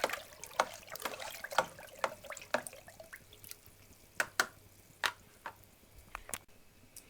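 A yeast and sugar mash for fuel alcohol being stirred gives faint, scattered liquid drips and small splashes that land irregularly, some sharper than others, over a quiet background with no talking.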